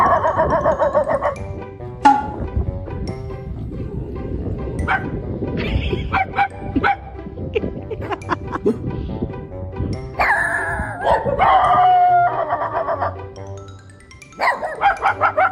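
Small white dog barking and yipping near at hand in bursts, with whimpers between, while a person imitates barking back at it in an exchange.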